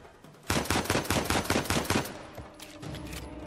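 Pistol fire in the video game Uncharted 4 during a jungle fight, a quick string of about a dozen crisp, rapid shots lasting roughly a second and a half, then fading into quieter in-game background noise.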